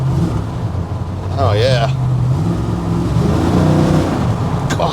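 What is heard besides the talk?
high-compression LS3-based 416 engine revving in a 1969 GMC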